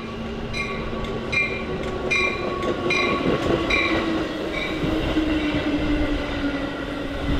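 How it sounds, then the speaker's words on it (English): A BNSF Metra commuter train sits at a station, its engine droning and wheels rumbling steadily while a repeated high electronic chime or bell rings for several seconds. "now only 2 to 3 dozen board the train for the trip to Union Station"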